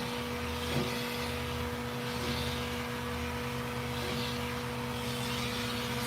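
A vacuum hums steadily and close while pulling loose hair during a puppy's first grooming trim, a constant even drone with no breaks.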